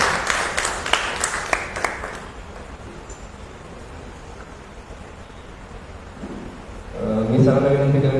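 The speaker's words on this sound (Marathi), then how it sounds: "त्यांचं आपण टाळ्या वाजवून स्वागत करूया." Audience at a Marathi community gathering clapping to welcome a guest to the stage, a burst of dense applause at the start that fades within a few seconds, followed by a quiet room and then someone speaking.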